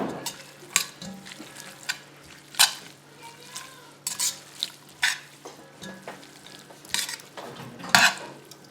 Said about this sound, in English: toss the cooked spaghetti with half cup of milk